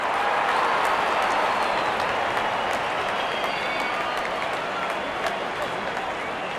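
A packed stadium crowd at a Pakistan vs Sri Lanka cricket match roars and applauds after a six, a dense, sustained wash of cheering under a commentator's voice.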